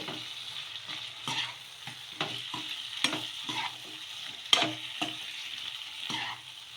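Vada batter with chopped coriander is stirred in a pan, the spoon scraping in a steady rhythm of soft strokes over a low, continuous sizzle, close and clear with no voices.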